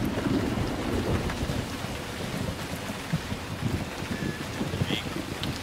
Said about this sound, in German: Alter, dieses Gewitter ist ja schlimm.